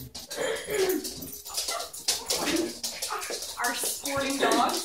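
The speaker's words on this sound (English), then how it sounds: "She is a Chesapeake Bay Retriever." A Chesapeake Bay Retriever, a big brown sporting gun dog, makes whimpering and bark-like sounds amid a busy mix of bird calls and a speaking voice, fairly close and steady throughout.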